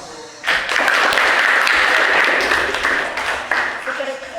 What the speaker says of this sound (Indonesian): Sudah cukup, kita beri aplaus.